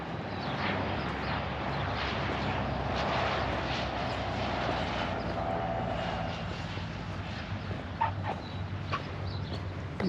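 An airplane, apparently a light aircraft, comes in to land at a small airport, giving a steady, broad engine drone that holds for the whole stretch at moderate distance, with a faint bark or two in the background.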